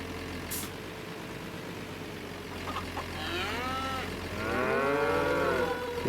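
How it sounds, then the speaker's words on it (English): Cows mooing on a farm in the video game Farming Simulator 25, several drawn-out moos rising in the second half over a low idling vehicle hum. "Those cows are talkative this morning."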